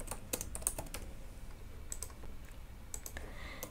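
Fingers tap out short bursts on a computer keyboard while entering code, quick light clicks grouped in brief clusters with short pauses between, faint and close, with no talking.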